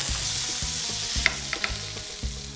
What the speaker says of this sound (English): we're gonna put in some zucchinis here